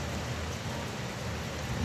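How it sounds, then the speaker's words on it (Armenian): Steady rain falling in cold weather, a dense, even hiss of drops on surfaces with no voices. "անձրևա գալիս, եղանակը սառը,"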